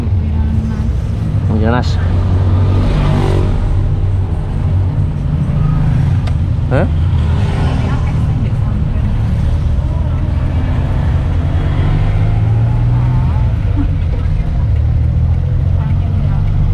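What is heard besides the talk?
Daihatsu Hijet 1000 engine accelerating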